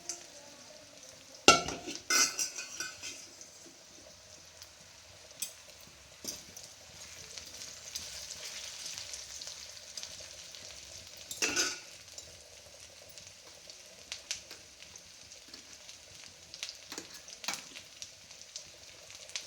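Chana dal and grated coconut fry in a pan, giving a soft, steady sizzle with scattered sharp clinks and scrapes of a utensil against the pan, louder bursts near the start and middle, and no voices.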